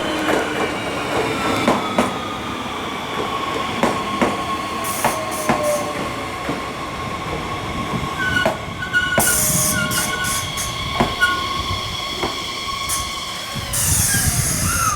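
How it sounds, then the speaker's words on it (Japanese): A new Kintetsu Minami Osaka Line 6A series electric train on a test run rolls past close by with a steady rumble, rhythmic wheel clicks over rail joints and brief high squeals, no voices. "待っている間に近鉄南大阪線の新型の 6A 系の試運転が来ました。"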